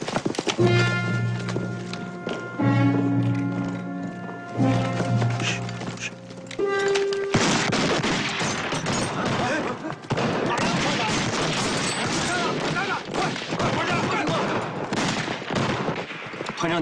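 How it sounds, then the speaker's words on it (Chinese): Volleys of gunfire from Arisaka Type 38 rifles in a wartime drama, sharp repeated shots in a dense, sustained barrage after a stretch of music, with hooves and other battle noise mixed in. "让你听，三八大盖的枪声。"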